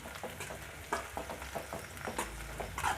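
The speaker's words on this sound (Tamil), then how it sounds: "இந்த வெங்காயம் பச்சை மிளகா நல்லா வதங்கட்டும்" Chopped onions and green chillies sauté in an oil-filled pan for a potato kurma, giving a steady close sizzle broken by repeated stirring scrapes and crackling pops throughout.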